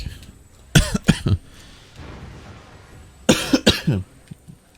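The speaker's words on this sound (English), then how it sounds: "I've been coughing a lot today." A man gives two hard bursts of coughing close to the microphone, each a quick cluster of three or four harsh coughs separated by a quiet pause.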